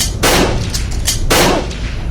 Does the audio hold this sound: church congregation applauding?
no